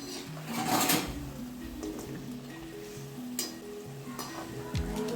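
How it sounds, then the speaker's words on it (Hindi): Pakoras of raw gram, onion and besan frying in hot oil, a steady soft sizzle with occasional clinks of a utensil against the pan, fairly quiet and without talk. "तो पकौड़ी छान रही हूँ"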